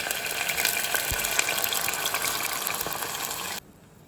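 Water runs steadily into a pot for cooking short-grain rice, a continuous bright gushing pour that stops abruptly near the end and leaves a quiet room.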